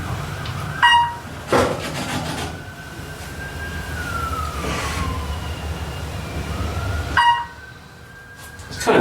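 Emergency vehicle sirens pass outside near buildings on Kauai, Hawaii, a long rising and falling wail over a steady rumbling background, with a few brief knocks and bumps nearby.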